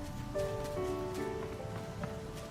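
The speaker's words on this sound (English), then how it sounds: "I hear the rain." Rain in the video game Beast of Reincarnation, a soft continuous patter of drops on a surface under faint sustained musical tones, low and even throughout without speech.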